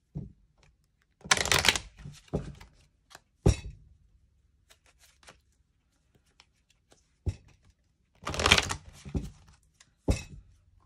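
Romance angel oracle cards are shuffled in short bursts of crisp riffling and snapping, separated by quiet pauses and a few soft taps, close and fairly faint.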